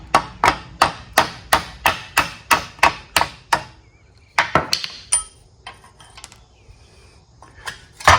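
A hammer drives the remains of a cut nut off a Ford 501 mower in a steady run of about a dozen loud metallic blows, then several more scattered strikes after a pause.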